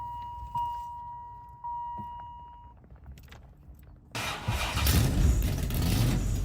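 Beeps and a jangle of a chip key in a quiet interior, then a 600-horsepower Chevrolet Lumina engine turns over and settles into a loud, steady rumble.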